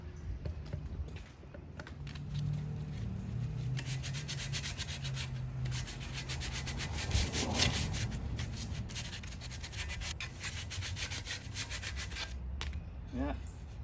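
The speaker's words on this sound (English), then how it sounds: "Let's get the sandpaper. Sand this debris off." Sandpaper scrubs rust debris from parts of an 88-year-old Robbins and Meyers Type 1204 industrial fan. The rasping strokes are close and continuous and swell slightly midway.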